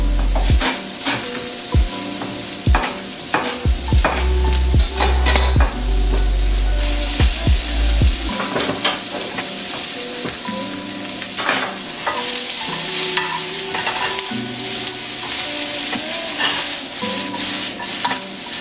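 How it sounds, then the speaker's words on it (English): Kale sautéing in a pan, a steady loud sizzle running throughout with frequent scraping and stirring clatter from a utensil, busier and more clanky in the first half. "After that, just let everything saute together for a few minutes"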